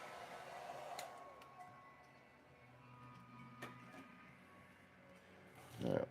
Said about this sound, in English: Just giving that a little blow dry here.